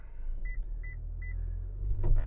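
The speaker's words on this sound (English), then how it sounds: "Hey, look at that, another beep." Warning beeps from a Toyota RAV4 TRD Off-Road while it drives in snow, several short paired tones sounding over steady engine and road rumble, with wheel spin noise building near the end.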